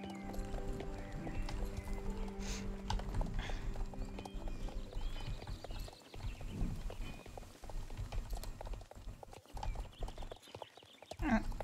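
Horse hooves clip-clopping in the online horse-riding game Star Stable Online, a steady trotting rhythm with whinnies, game music and a faint voice talking in the background.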